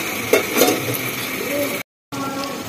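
Marinated chicken (salt, turmeric, oil) frying in a pan of melted tomato masala: a steady close sizzle with stirring scrapes, briefly cutting to silence before the frying resumes.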